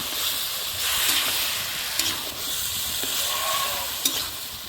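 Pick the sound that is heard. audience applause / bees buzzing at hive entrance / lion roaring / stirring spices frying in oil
stirring spices frying in oil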